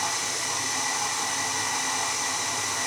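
Electric hand mixer beating butter for a soft chocolate cake, a steady continuous whirring drone that holds even and fairly loud throughout with no talking.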